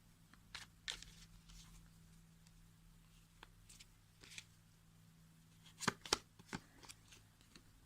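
Tarot cards shuffled by hand for a draw, giving soft riffling bursts with a louder flurry near the end, close and quiet, with no talking.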